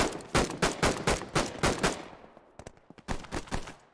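Bursts of automatic machine gun fire in the military shooter Operation: Harsh Doorstop, a rapid run of loud, evenly spaced shots trailing into echoing reverb, then a shorter second burst, with no talk.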